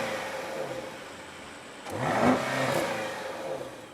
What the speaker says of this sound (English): it also alters the exhaust note to something more V8 proper